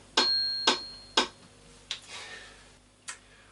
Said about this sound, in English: you can also change the sound on the metronome, so this is cowbell, sticks, claves, or just metronome sound